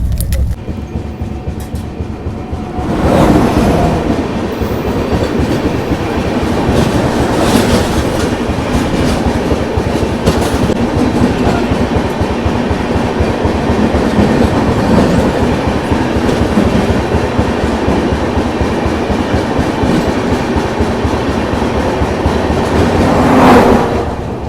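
The LTT Mumbai–Gorakhpur Kushinagar Express runs along the rails with a loud, steady rumble and rhythmic clickety-clack heard from inside a coach, continuous throughout.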